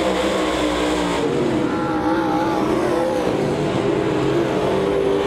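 Race cars at Devil's Bowl Speedway roar in a constant loud engine drone, with a rising whine as the pack runs high on the track and no pause in the noise.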